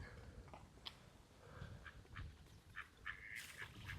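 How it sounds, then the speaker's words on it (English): Several ducks quack in short scattered bursts by the water in Reedham, Norfolk, UK, faint and somewhat distant, over a low outdoor background. "All the ducks and birds are in."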